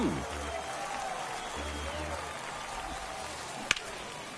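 Baseball stadium crowd noise in the video game MLB The Show 23, a steady broad murmur and cheer sustained throughout, with a sharp crack-like hit near the end and brief low thumps underneath.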